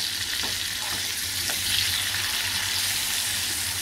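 Bangda mackerel masala fry sizzles in a pan over medium heat, a loud, even crackle with a few soft taps of a turner, no talking.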